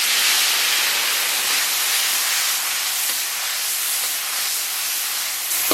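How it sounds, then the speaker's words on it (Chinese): Scallion, ginger and garlic sizzling in hot oil in a wok while cooking tomato beef braised noodles, a steady close broadband hiss with no talk. "咱们把葱姜蒜这个提前准备好的调料给它下里边"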